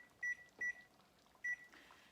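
A kitchen timer is set while chicken and dumplings simmer on the stove. It gives three short, quiet electronic beeps: two close together, then a third after a pause, with no other sound.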